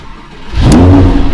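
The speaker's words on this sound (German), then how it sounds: "Der Moment, wir starten den Wagen." A Lamborghini engine fires up suddenly after a quiet moment, bursting into a loud, close rev that holds at a steady roar.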